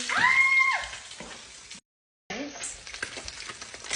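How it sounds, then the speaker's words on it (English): Eggs frying in a pan produce a crackling sizzle with stirring and scraping sounds, broken by a short silent gap; a brief tonal squeak is heard at the start. "I let the white part fry a little bit, and then we're gonna start turning."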